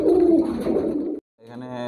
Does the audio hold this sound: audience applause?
no